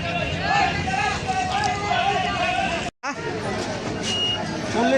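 Dense crowd babble fills a busy riverside boat landing on a Friday, many voices overlapping close by and continuously, with a nearby speaker talking through the hubbub.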